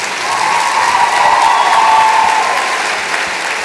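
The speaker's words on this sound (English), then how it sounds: "Please give another round of applause for the graduates from the School of Social Work." Sustained applause from a graduation audience for School of Social Work graduates at a celebration of achievement ceremony, a dense steady wash of clapping that holds for several seconds before easing off.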